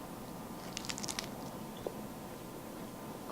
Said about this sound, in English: These are your kale chips. I'm gonna eat one.